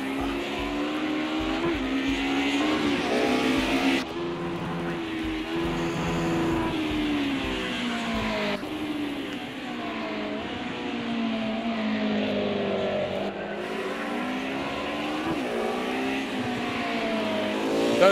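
DTM-series race cars at Oulton Park howl continuously with engines revving up and down through shifts, loud and close, tires squealing at times.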